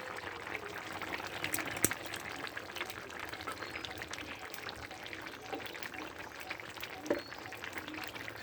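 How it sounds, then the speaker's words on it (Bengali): Water poured into a bowl to rinse out ground spice paste of black cumin, pepper and green chili, a faint continuous trickle and splash with a couple of small clinks against the bowl. "একটু জল দিয়ে বাটিটা ধুয়ে দিলাম।"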